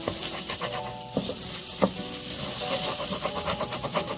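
Rice sizzles as it fries in a pan ahead of adding liquid for saffron rice, with the scrape and clatter of stirring over a steady frying hiss, close and continuous.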